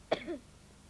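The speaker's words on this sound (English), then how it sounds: "So safe, too, to calm that tiresome cough." A single short, sharp cough with a brief throaty tail, heard alone and fairly close, illustrating a tiresome cough in a honey-and-lemon throat remedy advert.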